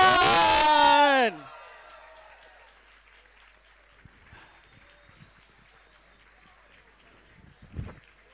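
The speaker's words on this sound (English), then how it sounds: "Let's get a round of applause" Applause and cheering ring out from a crowd at a bouldering competition night, opening with a loud burst that includes a shouting voice, then quickly falling away to faint scattered murmurs and a few claps.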